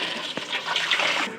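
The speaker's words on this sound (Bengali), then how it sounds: "আমি ডিশের ভিতরেই পানি দিয়া দেখি।" Water pours and splashes steadily into a dish set out for pigeons to bathe in, a close, continuous gushing and bubbling for over a second with no talking.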